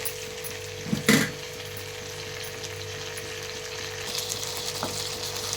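Tomato and chopped cucumber frying in a pan for a cucumber chutney, a steady close sizzle with a brief scrape of stirring near the start and a faint clink later.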